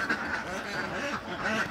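A duck on a duck farm quacks repeatedly in a nasal, rasping rhythm, close and fairly loud with no other sounds around it.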